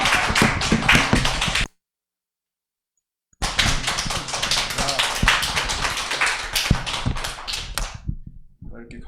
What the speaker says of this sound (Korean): 미국에서 하니까 미국식으로 박수를 한번 해 주십시오